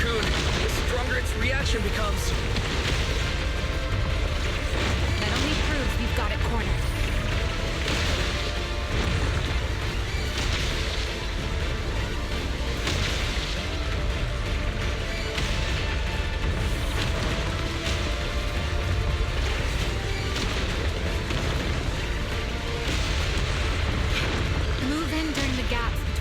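Loud, dense explosions and booming impacts in Zenless Zone Zero pile up continuously, with clanking mechanical noise and voices talking throughout.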